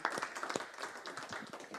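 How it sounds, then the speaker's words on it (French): Attendees at a municipal council meeting clap briefly, a short patter of scattered hand claps lasting under two seconds at modest loudness. "On peut applaudir"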